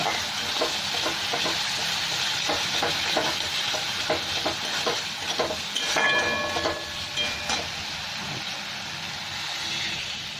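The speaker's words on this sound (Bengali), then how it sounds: "মশলাটা খুব ভালো ভাজা হয়ে গেছে, তেলও ছেড়ে দিয়েছে। এবার আমি জল দিয়ে দিচ্ছি।" Continuous sizzling of fried spice paste in a hot pan with clattering stirring strokes, swelling into a louder, hissing burst partway through as water hits the oil.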